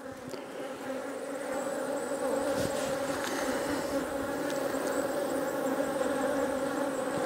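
A dense, steady hum of many honey bees buzzing close by at the hive during an inspection, droning continuously with no voices.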